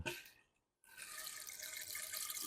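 Steady rushing, splashing water sound made by a bamboo instrument, like pouring or running water, with a brief silent gap near the start.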